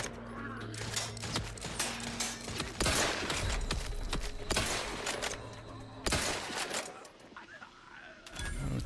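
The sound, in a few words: gunfire through a grate in the video game The Outer Worlds 2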